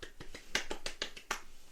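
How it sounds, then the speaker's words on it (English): A few slow, light, separate claps in a small quiet space, about eight sharp taps spaced unevenly, a soft golf-style clap from one or two people. "A little golf clap for you."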